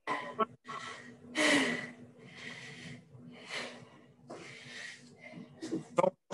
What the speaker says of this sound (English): Proper heavy breathing.